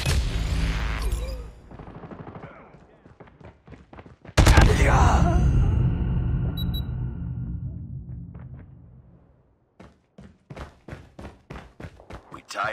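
Gunfire from a Call of Duty match: a long loud burst of shots in the middle, with sharp repeated rifle reports before and after, close and punchy, over game voice callouts.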